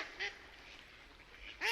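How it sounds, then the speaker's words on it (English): A mallard duck gives two nasal quacks, one brief and soft early, a louder one at the end, separated by a stretch of quiet low hiss. "quack"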